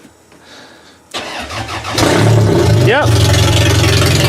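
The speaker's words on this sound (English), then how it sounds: "I bet you it'll start up right now" Toyota Solara car engine cranking and catching after a quiet start, then settling into a loud, steady idle close by, with a brief voice heard over it.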